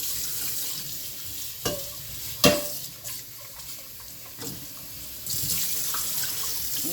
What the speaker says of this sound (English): Wash out the pots. Just shake out what was in there.